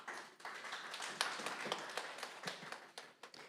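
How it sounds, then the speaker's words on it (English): An audience at a health ministry annual research day claps after the presentations, a steady patter of applause from a modest crowd in a hall, moderately loud with no speech over it. "I think we can give all of our presenters a big round of applause."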